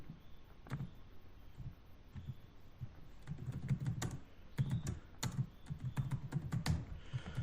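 Fingers type code on a computer keyboard, a quiet, uneven patter of key clicks that grows busier toward the end, with occasional louder taps standing out in a hushed room.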